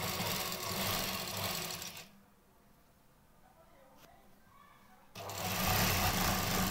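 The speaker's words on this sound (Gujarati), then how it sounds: "આ બ્લાઉઝને બંને સાઈડ પર સીધામાં આ રીતે પકડીને સીધી સિલાઈ મારી" Sewing machine running a straight seam down both sides of a blouse, a steady dense whir that stops for about three seconds and then resumes, close and fairly loud.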